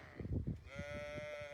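A sheep on a farm with ewes and a ram, bleating once in a long, wavering call that is faint and held for about a second.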